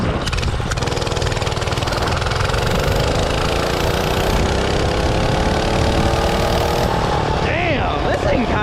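A small minibike engine revs loud and close while being ridden, a constant buzzing drone that climbs and falls in pitch as the throttle changes, with a rider's voice breaking in near the end.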